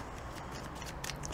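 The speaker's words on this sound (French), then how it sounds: "Je prends bien le temps de mélanger." Tarot cards shuffled by hand at close range, a quiet run of soft papery riffles and brushing slides, with a few brighter flicks near the end.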